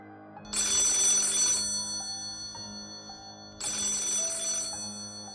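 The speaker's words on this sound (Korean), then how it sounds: "그리고 공중전화를 빠져나가려는 순간 그 공중전화로 전화가 오고 있었다" A payphone rings in a Korean horror story, two loud bursts of bright electronic bell tone separated by a pause, set over a low, eerie musical drone with no voices.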